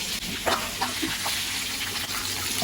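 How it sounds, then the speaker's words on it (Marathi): Water splashes and gushes into a hot pan of masala-stuffed capsicum, a short pour over a background hiss, with a few soft clinks. "थोडं आपण पाणी टाकूया त्याच्यावरती"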